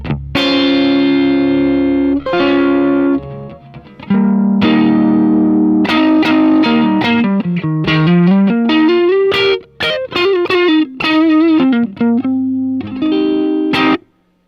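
A Gibson Falcon electric guitar, mic'd with an SM58, through a Deco pedal's cassette mode, playing a melodic line of chords and single notes, warbly and lo-fi with a wobbling tape-style pitch effect, loud and continuous.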